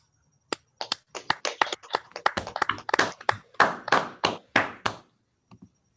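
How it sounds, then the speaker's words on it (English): A handful of people clapping after an online topology seminar talk, sparse separate claps that quicken into a brief irregular patter, then trail off into a couple of faint final claps, close and fairly quiet. "Shall we clap?"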